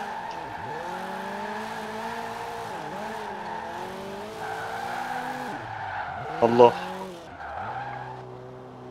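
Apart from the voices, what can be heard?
Toyota Celica ST205 skidding in video game Forza Horizon 4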